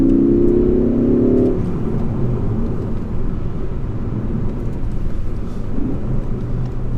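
A 2017 Ford Focus ST-3 accelerates hard through its gears on a road. The loud engine drone climbs, then drops at a shift and settles into a steady, rushing roar with no talking.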